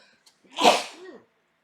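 A single loud, close sneeze with a sharp burst and a brief trailing exhale, then quiet.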